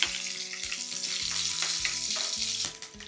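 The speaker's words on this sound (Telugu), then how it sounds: "ఆయిల్ వేసుకొని నూనె వేడెక్కిన తర్వాత ఇప్పుడు ఇందులో ఆవాలు, కొన్ని మిరియాలు, సన్నగా అలాగే క్రష్ చేసుకున్న వెల్లుల్లి," Mustard seeds, pepper and crushed garlic fry in hot oil with a loud, continuous close sizzle and crackle, a stirring spoon scraping now and then, no voices.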